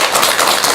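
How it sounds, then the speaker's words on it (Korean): Audience applause for a monk at a Buddhist talk event, a short dense burst of many hands clapping, loud and steady throughout with no voices over it. "우리 스님께 큰 박수 한번 주시기 바랍니다."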